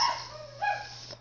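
A dog in the Fortnite video game gives a short bark or yip, then a second quieter one, heard alone over a low steady game hum.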